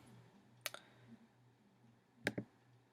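Two sharp computer mouse clicks, one early and a double click near the end, close and crisp over faint room hum while building a form in WordPress.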